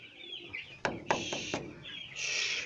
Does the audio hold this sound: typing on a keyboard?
no